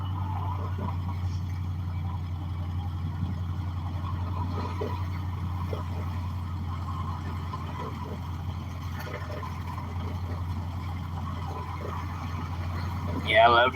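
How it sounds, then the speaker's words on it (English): Road traffic rumbles steadily: a continuous low engine drone, as if heard from a vehicle waiting in traffic, holds level throughout with faint shifting noise on top and a brief louder burst at the very end. "Waiting on traffic."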